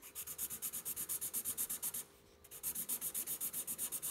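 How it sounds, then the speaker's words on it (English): Rapid back-and-forth scribbling of a colouring pencil on paper filling in parts of a fraction drawing, close and rhythmic, with a brief pause midway before the strokes resume. "And I need to colour in 2 parts."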